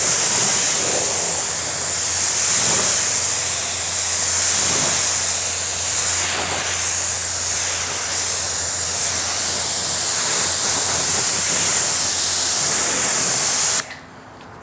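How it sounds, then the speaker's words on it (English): Water sprays continuously onto car paint to rinse off an iron remover chemical: a loud, steady hissing wash that holds for about fourteen seconds before cutting out. "and now it's time for us to rinse it off"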